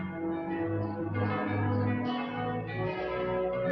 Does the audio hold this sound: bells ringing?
yes